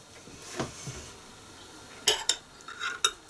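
A spoon clinks against dishes in a kitchen, with a few soft scrapes early on followed by several sharp, bright metallic clinks close by, all quiet and isolated.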